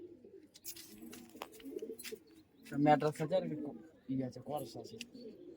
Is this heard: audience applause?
no